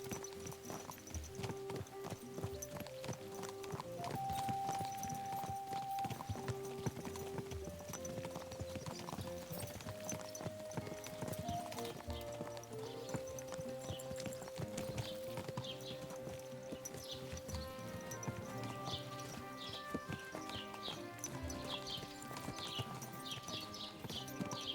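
Horse hooves clip-clop steadily under a dense layer of music in Kingdom Come: Deliverance II, with a faint whinny; the hoofbeats sit in the background rather than standing out.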